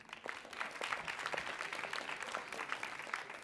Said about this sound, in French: On peut l'applaudir, Marion.